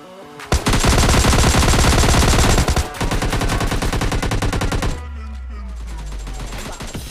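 Rapid automatic gunfire rattles loud and close in a PUBG Lite firefight, in one sustained burst of several seconds, then sparser, softer shots trail off.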